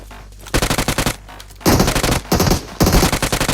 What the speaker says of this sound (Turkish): Silah sesleri kesilsin istiyorum yoksa hiçbir şey anlaşılmıyor